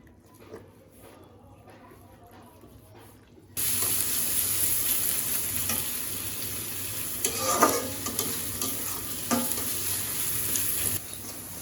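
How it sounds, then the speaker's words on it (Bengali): Onion and garlic fry in a pan in a village kitchen: after a quiet start a loud, continuous sizzle breaks out, punctuated by scraping stirs. "পেঁয়াজ রসুন ভাজা হয়ে গেছে।"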